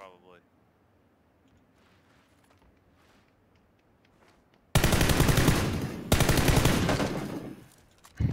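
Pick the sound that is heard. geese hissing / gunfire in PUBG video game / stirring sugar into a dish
gunfire in PUBG video game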